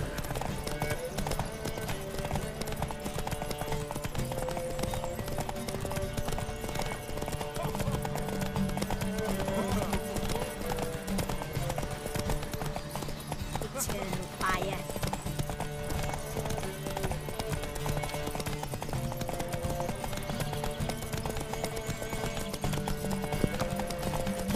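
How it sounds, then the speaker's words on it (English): The horse Roach in the video game The Witcher 3 walks with a steady, unhurried clip-clop of hooves throughout, heard over a constant bed of game music and ambience. "I don't really know why Roach isn't running"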